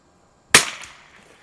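A single sharp rifle shot from a Winchester 52 pre-A or Mossberg 146B target rifle fitted with peep sights, fired at 50 yards outdoors; one close, loud crack with a short fading tail and no talk.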